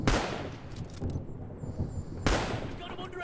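Gunfire in a WW2 first-person shooter game, with loud sharp shots booming at the start and again near the end over continuous game noise.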